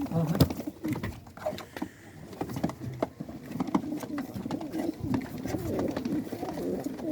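Pigeons coo continuously and close by, where a young pigeon is just starting to fly. Soft rustles and flutters mix in under the low, rolling calls.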